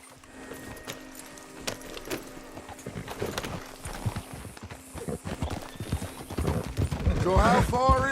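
Horse hoofbeats clip-clopping at a steady riding gait in the Red Dead Redemption 2 video game, continuous and close, with tack jingling and a voice talking partway through, building louder toward the end.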